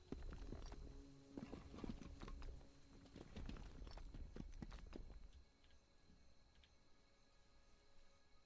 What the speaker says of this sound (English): Ooh, more horsies.